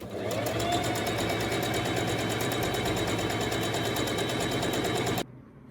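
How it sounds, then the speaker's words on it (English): A sewing machine runs in one continuous burst as it stitches down a crochet tunic seam, its needle chattering in a rapid, even rhythm at close range before cutting off abruptly near the end. "now we're just sewing all the way down."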